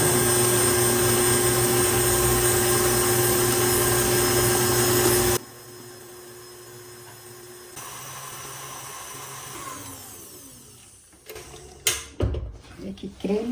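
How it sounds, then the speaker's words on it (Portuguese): A stand mixer whirs loudly and steadily while beating panettone dough with eggs. The motor noise cuts off abruptly after about five seconds, leaving quieter handling and clattering sounds. "Ligar novamente a batedeira."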